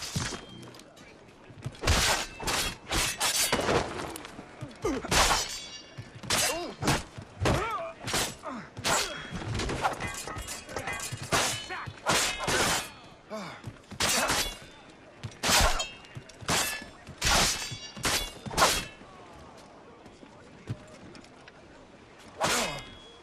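Gunfire in the video game Assassin's Creed Rogue: sharp, loud blasts and crashes repeat in quick clusters, with voices calling out between and over the shots.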